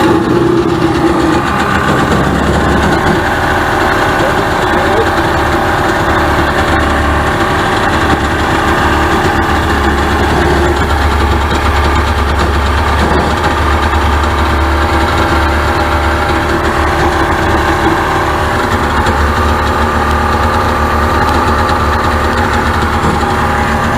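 Abandoned Sea-Doo GTS 587 jet ski engine restarts and settles into a steady, rumbling idle with faint vibration, running alone and close for the full stretch.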